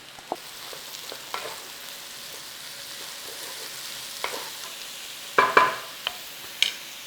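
Onions fry quietly in a pot, a soft, low hiss under scattered sharp clinks and taps of a utensil, with a small cluster of knocks toward the end.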